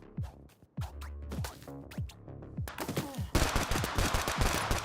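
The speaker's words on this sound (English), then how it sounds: "Assault rifles blazing between Sassy Wagging Walrus 4 and Tackle Box" Assault rifle fire in the battle royale game Bullet League: sharp, spaced shots give way to a thick, rapid burst of overlapping gunfire that grows louder and busier toward the end.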